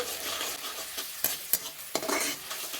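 Onion, tomato paste and ginger-garlic paste sizzle in a frying pan, heard up close. A spatula stirs them in sharp scrapes, several near the end, and no one speaks.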